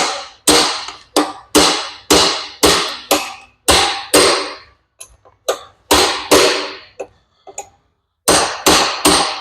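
Loud, sharp metal hammer strikes on a chisel, used to loosen a part during a Woods Equipment Groundbreaker cylinder reseal, ring out in a steady series, each blow decaying quickly, with short pauses between runs.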